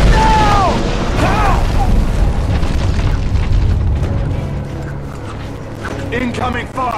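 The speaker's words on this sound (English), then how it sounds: "The war guard bombarding the entire town square from the bell tower." Heavy bombardment rumbles from a war guard's bell-tower attack on a town square in the video game Hunted: The Demon's Forge, with loud, sustained booming explosions and a voice calling out over the din.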